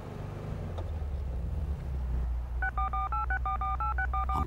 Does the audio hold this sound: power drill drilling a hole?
no